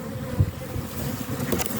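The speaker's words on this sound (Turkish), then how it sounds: "Ve yavaş yavaş sarı sarı polenleri getirmeye başlamış arılar." Steady low buzzing from honeybees close by at a hive entrance, a continuous droning hum with slight swells, under faint wind-like noise.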